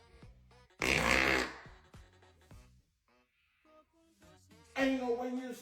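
Farting inside a truck: two loud, rough, sputtering bursts near the microphone, with brief faint voice-like sounds and quieter noises in between.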